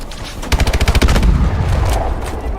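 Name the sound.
gunfire from Call of Duty: Advanced Warfare video game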